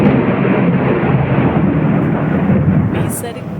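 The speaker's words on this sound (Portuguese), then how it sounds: "Olha o relâmpago." Thunder after a flash of lightning during a rainstorm, a loud sustained low rumble rolling continuously for several seconds before easing slightly, close and heavy.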